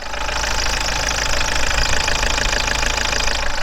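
A van's engine idles close by, a loud, steady, rough mechanical rumble with a faint knocking vibration, running continuously without pauses or voices.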